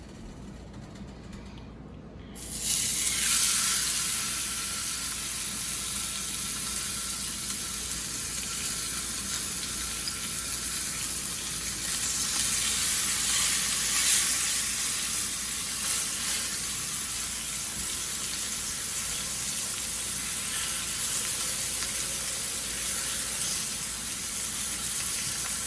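Wagyu ribeye steaks hit a hot pan slicked with olive oil, bursting into a loud, sustained sear that swells once and holds as a bright, close, continuous hiss.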